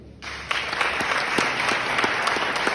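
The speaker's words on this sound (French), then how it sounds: "Et je vous propose de l'applaudir." An audience at a book event in La Rochelle applauds an author, steady clapping of a modest crowd that starts abruptly and continues evenly throughout.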